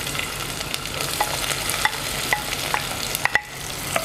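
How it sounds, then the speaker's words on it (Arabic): Onion sautéing in oil as the base for an Aswan-style baked Nile fish tagine, a steady close sizzle with scattered spatula scrapes and clicks while it is stirred, no talking. "نشوح البصلة بتاعتنا كده"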